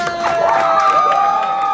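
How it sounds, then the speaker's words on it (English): A college stand-up comedy fundraiser crowd cheers and whoops with some clapping, a brief lively burst of raised voices that swells and then holds. "let's give a round of applause for Lain and"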